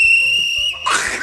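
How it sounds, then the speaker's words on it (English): Shrill whistle blown in a loud, steady blast that holds for most of the moment, then breaks off into a noisy burst, close and harsh. "Do not blow that whistle."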